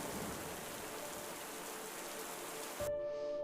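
Steady rain pours down, dripping through the broken roof of a small mud hut, a dense even hiss that holds for several seconds before cutting off abruptly into a quiet tonal drone.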